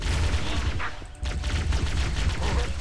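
Rapid gunfire in the video game Halo: Combat Evolved crackles in dense, loud bursts that pause briefly near the middle and then resume, with no speech over it.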